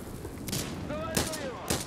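Gunfire in a free-to-play FPS game from the makers of Escape from Tarkov comes in three quick loud bursts, with ringing tails between them.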